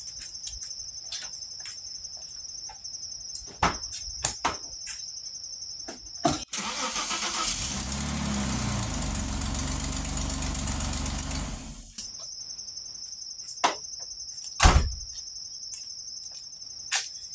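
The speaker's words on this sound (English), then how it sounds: "this is going to be the first cold start again today" Crickets chirp steadily before the 3.0 engine of a Bitter SC with Bosch L-Jetronic fuel injection cranks and fires on a cold start, idling loudly for several seconds, then shuts off, leaving the insect chorus and a few knocks.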